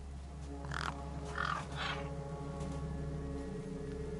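Crows caw in the video game Beyond a Steel Sky, three or four harsh calls close together over a steady low ambient hum, no one talking.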